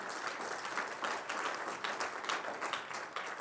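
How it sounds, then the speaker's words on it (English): Faint, distant audience applause at a Kente stole ceremony, a brief burst of scattered clapping from a crowd lasting a few seconds at low level. "You should clap for that."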